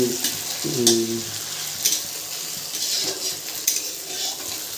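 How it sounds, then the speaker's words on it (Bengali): Onions frying in a pan with fish, a close sizzle punctuated by several scraping stirs and light clinks of a spatula against metal. "দেখাচ্ছি পেঁয়াজটা একটু নেড়ে অলরেডি আমাদের পেঁয়াজটা এখন মরে গেছে"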